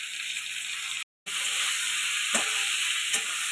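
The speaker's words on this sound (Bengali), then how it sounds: "আলু বেগুনটা ভাজা হয়ে গেছে" Potatoes and aubergine fry in hot oil in a pan, a steady bright sizzle with a short silent cut early on and a couple of soft stirring clicks.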